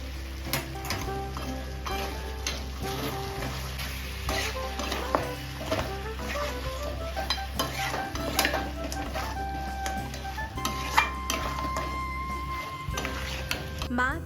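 A spoon stirs a fried onion, cashew and raisin paste with milk in a pan for mutton korma, with steady sizzling under repeated scraping and light metallic clinks of utensil against pan, close and continuous.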